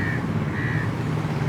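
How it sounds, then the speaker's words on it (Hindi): A crow caws twice, loud and close, over steady outdoor background noise at Badem, Vagator in Goa around sunset. "और वो रहा कौवा"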